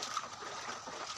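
Rainwater flooding into a room during heavy rain, a continuous close wash of rushing, trickling water.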